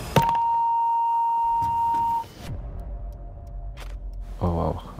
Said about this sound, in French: Je crois qu'il est temps de lancer cette alarme.